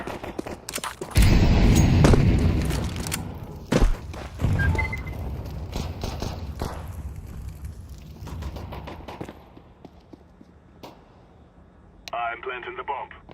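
An incendiary grenade thrown in Counter-Strike 2, giving a loud whooshing burst that fades into crackling and scattered distant gunfire, with a voice speaking over the action.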